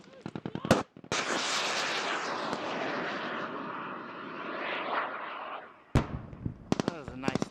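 A top-down attack explosion tears through a military game battle, a long loud roaring blast after sharp bursts, followed by more clattering shots.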